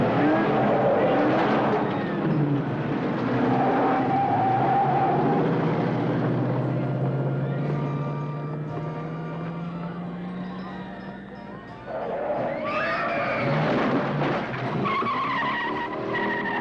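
A car with a faulty steering skids out of control, its engine droning as tires squeal in long sliding sweeps. The sound is loud and continuous, with a fresh burst of screeching near the end and voices faintly behind it.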